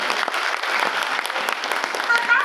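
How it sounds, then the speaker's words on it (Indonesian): An audience claps throughout a public speaking event, steady and dense applause from a crowd in a hall, fairly loud and close. "Tepuk tangan untuk kita semuanya"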